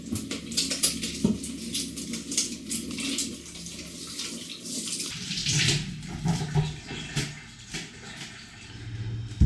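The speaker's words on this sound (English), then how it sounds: "wash our hands" Water runs from a tap while hands are washed beneath it in a kitchen before baking, a steady close splashing stream with rubbing and a shift in flow partway through.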